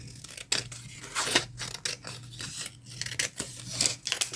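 Scissors snip through paper for junk journal pocket tags: a series of close, irregular crisp cuts and rasping slices with short pauses between.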